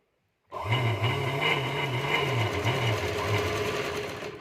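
A sewing machine stitches the lining of a blouse, starting abruptly after a brief silence and then running as a loud, continuous close-up whir with a faint rhythmic pulse of the needle.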